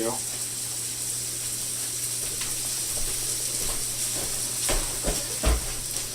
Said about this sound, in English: After I put the kielbasa down on the griddle